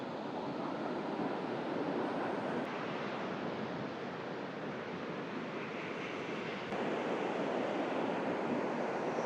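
Sea surf rolls steadily onto Uppada beach along the coastal road, a continuous broadband wash of breaking waves with light wind noise, swelling slightly louder near the end, no voices.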